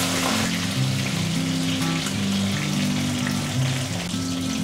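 Tilapia fries in hot oil in a pan, a dense, steady crackling sizzle with a hum underneath, loud and close throughout with no voices.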